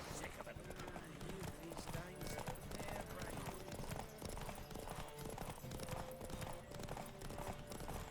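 Galloping hooves drum in a fast steady rhythm during a horse race in The Witcher 3 video game while voices call out over them, with an occasional horse snort.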